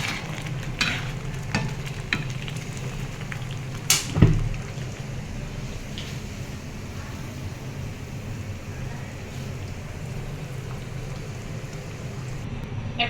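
Tempering for a lentil chorchori of onion, garlic and whole cumin sizzling in hot oil makes a steady low frying hiss, broken by a few clanks and one louder knock, with no talking.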